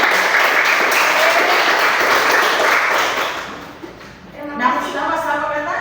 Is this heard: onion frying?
no